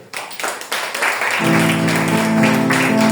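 Congregation in a church applauding together, a dense burst of many hands clapping that builds quickly and carries on steadily, fairly loud and close, with no clear voices over it.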